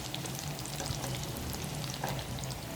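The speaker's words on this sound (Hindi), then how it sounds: "तमाम पकौड़े जो हैं उनको हम फ्राई करेंगे" Achari pakoras deep-frying in hot oil, a dense continuous sizzle and bubbling heard close and alone.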